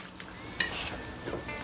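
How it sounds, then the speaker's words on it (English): Bread dough with blueberries, flax and chia mixed in a bowl, a sharp utensil clink on the dish followed by soft scraping and stirring sounds, close and quiet. "So I'm going to mix this up well."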